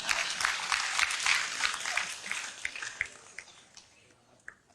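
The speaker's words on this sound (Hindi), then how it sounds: "दोबारा ताली बजाओ।" Listeners at a poetry recital in Patna clapping, a lively burst of applause with individual claps audible that thins and fades out toward the end, leaving scattered last claps and a quiet room.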